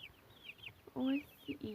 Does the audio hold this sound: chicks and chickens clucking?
yes